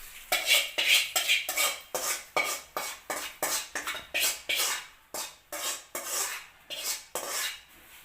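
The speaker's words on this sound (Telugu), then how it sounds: "ఈ పోపు మొత్తం అటుకులకు కలిసేటట్టు మొత్తం కలిపేయాలి" A spoon scrapes rhythmically around a pan, mixing fried tempering into flattened rice (poha), with quick, regular scraping strokes repeating close up.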